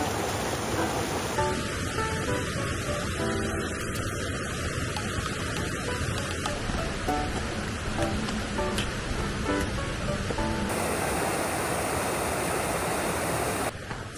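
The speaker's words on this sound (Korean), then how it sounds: "물소리 난다." Water flows steadily in a snow-covered mountain stream on a frigid winter backpacking trip, a continuous near rushing wash with no pauses.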